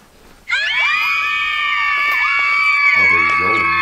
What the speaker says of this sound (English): Do you hear that? That's the women screaming all across the world.